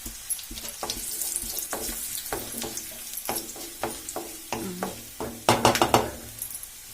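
Curry leaves are dropped into hot oil in a home kitchen, bringing crackling sizzle mixed with close clattering of a spoon and utensils and splashy noise. The bursts turn louder and busier toward the end.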